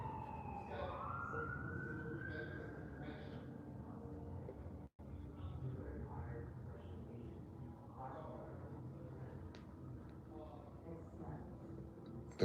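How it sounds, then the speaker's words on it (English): Emergency vehicle sirens wail in the background outdoors, a rising tone near the start and then a steady distant drone under continuous low rumble and people talking. "And the sirens in the background."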